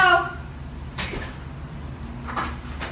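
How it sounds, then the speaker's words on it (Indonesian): An apartment door is knocked on, a couple of dull, muffled raps spaced apart, with a brief voice at the very start. "knock on the door"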